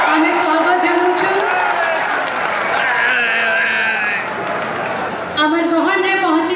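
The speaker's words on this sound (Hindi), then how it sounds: "तांको ताली और हुलाहुली संगे बरगढ़ आमे स्वागत जनाउछु" A dense crowd at a BJP rally in Bargarh, Odisha, welcomes Chief Minister Mohan Charan Majhi with continuous applause and high, wavering ululation.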